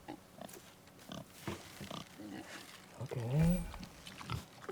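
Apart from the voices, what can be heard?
wild boar grunting in God of War video game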